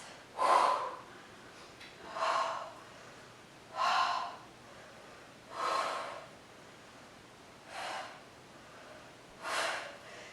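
Six forceful exhaled breaths during a Pilates exercise, evenly spaced about every one and a half seconds, close and breathy, alone in a quiet room.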